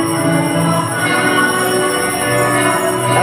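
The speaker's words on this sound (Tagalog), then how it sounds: "At maridinig ang batingaw sa buong barangay Santa Barbara at sound system." Church bell ringing out over a barangay before an evening mass, relayed through a sound system, a dense sustained metallic ringing with no clear pauses, loud and steady throughout.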